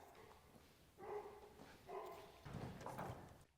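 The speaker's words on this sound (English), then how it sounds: "Dogs are going insane." Dogs bark in bursts near a garage where a Jaguar XJ6 Series III is being worked on, three muffled, moderately distant volleys with no talk over them.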